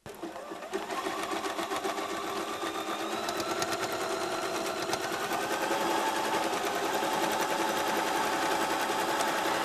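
A sewing machine quilts around a patchwork block, running a fast, even needle clatter that starts abruptly and holds steady, close and clear with no talk.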